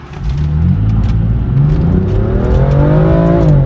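A BMW M4 with a dual-clutch transmission revs hard and climbs in pitch through the gears accelerating to 60 mph, loud and close, a sustained accelerating roar with no talking.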